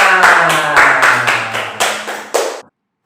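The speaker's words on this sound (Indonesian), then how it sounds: "Tepuk tangan semuanya." Children and a Sunday school congregation clap hands in sharp, loud bursts, about eight distinct claps in a rough rhythm before an abrupt stop into silence.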